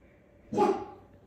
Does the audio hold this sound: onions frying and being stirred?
no